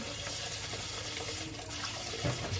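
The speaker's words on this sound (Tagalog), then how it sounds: "Guys, sinayos pa namin yung gripo namin." Water running steadily from a repaired household faucet, a close constant gush with slight splashing toward the end.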